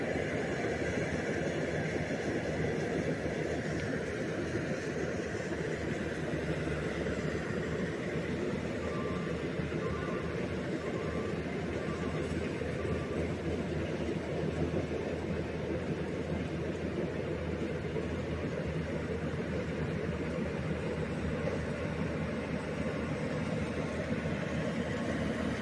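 A small rice harvesting machine runs in a paddy field, giving a continuous, even engine drone with a rough mechanical hiss that holds steady for the whole stretch, with no talking.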